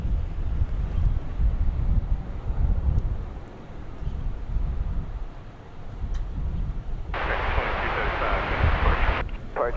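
A Boeing 737-800 airliner arriving from Las Vegas at DFW airport makes a low, rolling jet roar that swells and fades under wind buffeting on the microphone. A brighter hiss surges near the end.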